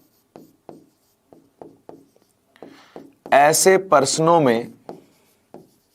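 Notes written by hand during a maths lesson: a series of short, crisp pen strokes tapping out in quick succession, with a teacher speaking briefly in the middle before the scratchy strokes resume.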